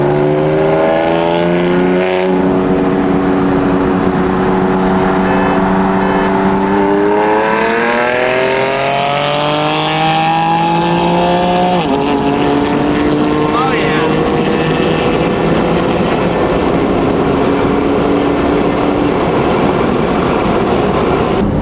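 A stage 2 BMW M4 and a stock BMW M4 accelerate hard in a 50 mph roll race, with a loud, close engine note climbing steadily in pitch, a brief shift break midway, then rising again and holding strong to the end.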